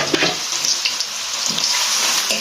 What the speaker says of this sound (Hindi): उसमें एक पूरा प्याज हमने बारीक चॉप करके डाला है